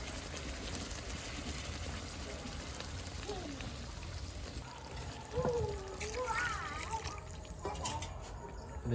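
Water is poured into chicken curry cooking in a pot in a village kitchen, giving a soft trickling splash close by while a person talks over it.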